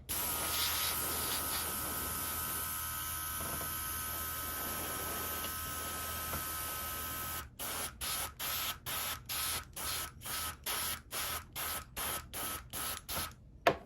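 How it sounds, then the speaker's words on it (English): An airbrush blows air onto the base of a painted Warhammer miniature. A steady hiss runs on, then breaks into about a dozen quick on-off bursts of air, close up, with no talking. "Airbrush back out. Just gonna blow air onto this. I'm gonna blow air onto this base."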